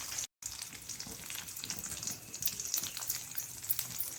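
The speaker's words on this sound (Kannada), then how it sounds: "ಸ್ವಲ್ಪ ಬೆಳ್ಳುಳ್ಳಿ ಇದಾಗುವಾಗ ಸ್ವಲ್ಪ ಹಿಂಗನ್ನು ಹಾಕೊಳ್ತಿದ್ದೇನೆ." Garlic frying in a pan with asafoetida just added, a steady close sizzle with a faint stirring clatter, brief dropout near the start, no talking.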